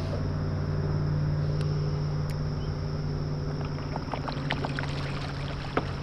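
Electric trolling motor running in forward on a Lifetime Tamarack Angler 100 kayak, a steady close whine with a low hum, water trickling and a few faint clicks near the end.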